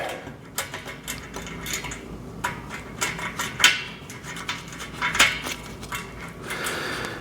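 A washer and nut being fitted onto a bolt of a steel-framed garden bench give off scattered small metallic clicks and clinks, close and fairly quiet, with no talking.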